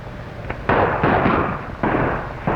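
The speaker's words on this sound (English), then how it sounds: "when we hear the explosion" A hand grenade blows up an ammunition supply in a 1935 war serial, giving a series of loud, close booming blasts that rumble on between bursts.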